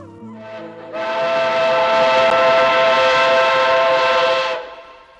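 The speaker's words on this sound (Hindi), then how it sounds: "रेलगाड़ी अपनी पूरी रफ्तार से भाग रही थी।" A train running at full speed, heard as a loud sustained steam-style train whistle that swells in and holds steady for about three and a half seconds before fading, with no talk.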